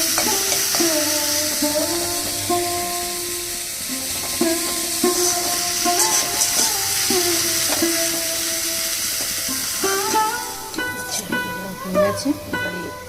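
Potatoes fry in a pan in a home kitchen, giving a steady sizzling hiss throughout, with scraping stirs and clatter near the end, beneath sustained tonal sounds.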